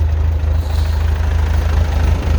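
A 1969 Massey Ferguson tractor runs a snowblower, its engine holding a loud, steady low rumble with an even chugging pulse throughout, close to the microphone and without any talk.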